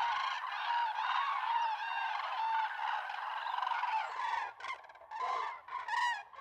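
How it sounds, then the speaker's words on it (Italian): Loud, overlapping bugling calls from a large flock of common cranes wintering in the Maremma, Tuscany, continuous and dense, with a few separate calls breaking out near the end. "Sono le gru cenerine in arrivo dal nord Europa."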